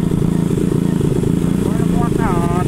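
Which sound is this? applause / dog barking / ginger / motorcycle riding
motorcycle riding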